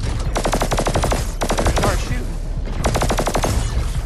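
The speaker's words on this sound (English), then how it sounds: "Better start shooting." Sustained rapid gunfire from shooting in the VR shooter game Hubris on PlayStation VR2, loud and close, in repeated bursts of fast regular shots with brief pauses between volleys.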